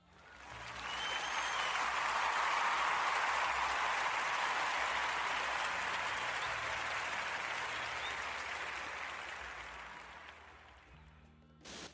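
Enthusiastic studio audience applause for a Portuguese radio podcast show, a dense, steady clapping that swells quickly, holds strong for about ten seconds, then thins out and fades near the end.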